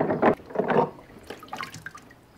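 Water rinsing dust off the parts of a DIY mash tun build, several splashy bursts of running and dripping water close by, loud at first and then softer, scattered trickles toward the end.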